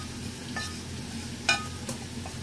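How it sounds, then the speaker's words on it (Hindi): Cumin and coriander seeds roast in a pan with a low, steady sizzle, broken by a few sharp scrapes and light clicks as the seeds are stirred. "जीरे और धनिए को हम भून लेंगे एक पैन के अंदर।"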